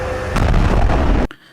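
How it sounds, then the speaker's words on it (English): A loud, sustained explosion roar from a played video, dense and rumbling for over a second before cutting off abruptly into quiet. "I want to know what kind of balloon they are using to make this explosion."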